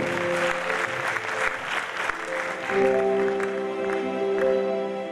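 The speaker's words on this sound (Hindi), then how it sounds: "मैं चाहता हूं पंकज वाणीकर के लिए जोरदार तालियां" An audience applauds a performer at a live music show, loud continuous clapping that carries on while music and tonal sounds come in partway through.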